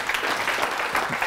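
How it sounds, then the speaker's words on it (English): An audience claps in a brief, steady burst that fills the room at a lecture on measuring string. "Round of applause, I would have thought."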